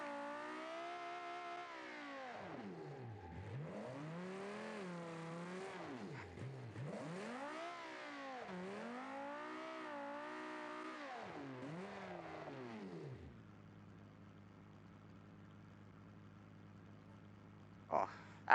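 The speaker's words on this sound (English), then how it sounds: "that one's a loud car" A car engine in a video game revs loudly, rising and falling in pitch through repeated throttle bursts, then settles into a lower idle drone before a sharp click.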